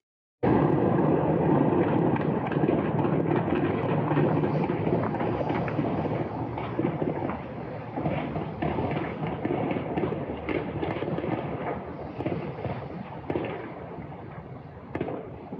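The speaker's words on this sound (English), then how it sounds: "it captures the sound of widespread gunfire and shelling" Dense, continuous bursts of distant gunfire and shelling roll on without pause at night during a protest crackdown in Kazakhstan, a loud crackling barrage that slowly eases slightly toward the end.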